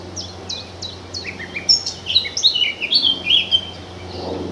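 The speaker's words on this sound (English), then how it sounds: "That's a blackcap." A blackcap sings on a pleasant late-May evening along a countryside footpath between Lenham and Bearsted, its bright warbling phrases repeating in quick bursts at moderate distance over a low steady background hum.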